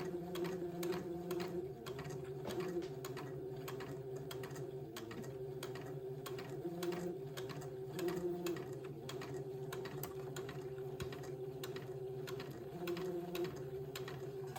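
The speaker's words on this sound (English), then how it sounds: "I'm going to sew along that line, just keeping my pin line in between my 2 needles." A sewing machine fitted with twin needles sews a pin tuck, humming continuously at an even pace with a regular, rapid ticking of the needles throughout, close and steady.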